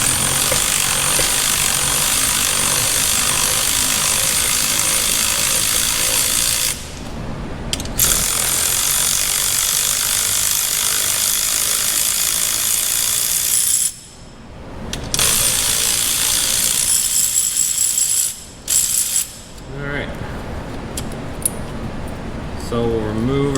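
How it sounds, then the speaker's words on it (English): A coil spring compressor is loosened on a Dodge Challenger or Charger during a BMR spring install, making long stretches of harsh rattling tool noise broken by brief pauses, with a person talking at times. "So we'll start loosening up our spring compressor here"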